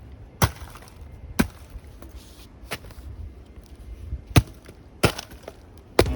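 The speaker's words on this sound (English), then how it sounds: "Break it up a little bit more. This stuff just crumbles. I'm barely hitting this." Crumbling rotten wood from a 20-year-old tree stump is struck and broken up outdoors, giving about seven sharp, close cracking thuds at irregular intervals, with soft splintering and rustling in between.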